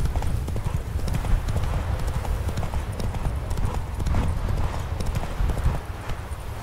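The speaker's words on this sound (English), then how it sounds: "Whoa there, Roach." Horse hooves clip-clop in a steady, continuous rhythm in The Witcher 3: Wild Hunt, close and moderately loud over a dense game background.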